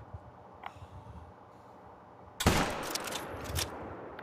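A hunting rifle shot in The Hunter: Call of the Wild, one sudden loud crack in an otherwise quiet outdoor scene, followed by a rolling echo and scattered rumble.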